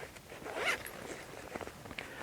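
A zipper pulled quickly along a pocket, a short rasping zip near the mic, followed by faint rustling and small clicks.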